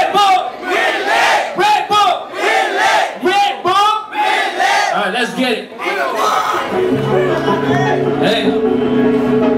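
A concert crowd at a Red Bull Blend show at Timbre, The Row in Kuala Lumpur shouts call-and-response chants. Short, loud, rhythmic group yells come in rapid bursts, then give way to a busy wash of crowd noise.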